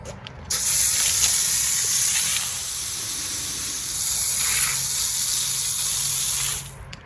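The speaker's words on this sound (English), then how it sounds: "So now we're going to spray it off." A hose sprays water to rinse algae-covered concrete after steel-brush scrubbing, a steady close hiss of spray that starts abruptly, dips slightly midway and cuts off near the end.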